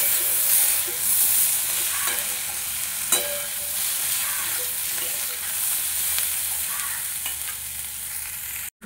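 Green chilli with cumin and coriander powder sautéing in a pan for a mixed vegetable dish: a continuous bright sizzle with periodic scraping stirs, loud and steady throughout.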